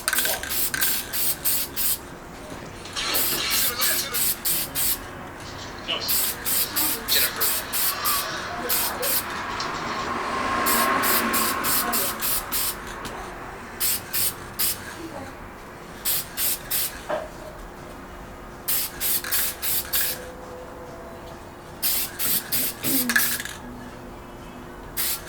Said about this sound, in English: Last part, some lacquer. Clear coat this bad boy and then should be all done.